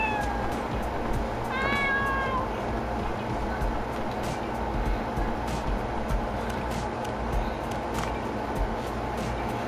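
A kitten in the video game Dave the Diver gives a single clear meow partway through, set against a steady bed of game background noise with faint speech around it.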